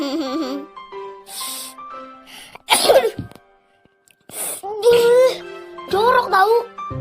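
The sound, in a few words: child sneezing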